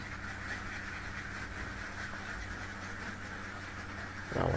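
Laying ducks housed in a dry-litter pen quack at an afternoon feeding, a constant chorus of overlapping calls at moderate distance, swelling louder near the end.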